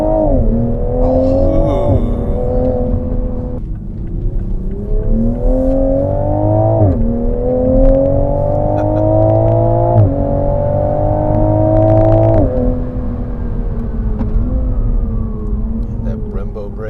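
A 2021 Toyota GR Supra 3.0 launches with launch control in sport mode, traction off. The engine revs climb loud and close in repeated rising sweeps, each cut short by a gear shift.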